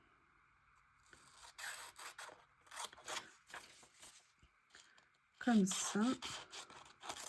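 Scissors cutting a small paper note for a collage journal, close-up snipping and scraping strokes in irregular bursts under quiet French speech.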